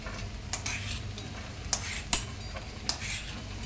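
Cashews fry in a pan with a low, steady sizzle, while a few brief scraping and clinking stirs of a utensil sound close by, and nobody speaks.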